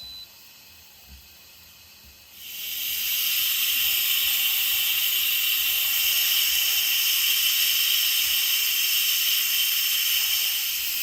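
Steam hisses steadily from an Instant Pot canning applesauce, starting abruptly after two seconds of quiet and holding a loud, continuous, even rush to the end.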